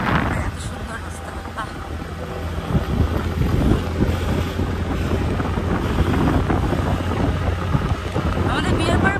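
A motorbike carrying a couple on a road trip along hilly mountain roads near Mirik, with heavy wind buffeting the microphone over a low steady engine drone throughout, and faint voices now and then.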